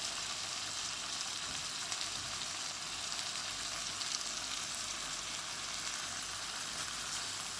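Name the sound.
tomatoes frying in a pan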